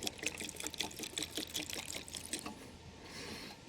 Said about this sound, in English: Pour a little in this cup right here.